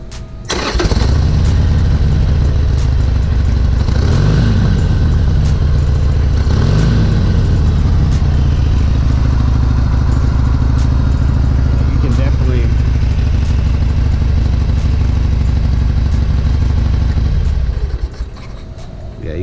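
A Harley-Davidson Iron 883 motorcycle fitted with an Arlen Ness Stage 1 Big Sucker air cleaner starts up and runs steadily, with a loud, close, continuous engine rumble throughout and a few throttle blips early on.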